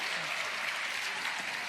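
Steady clapping from a crowd at a pickleball tournament in Mesa, Arizona, a dense, even applause following a backhand winner, continuing throughout.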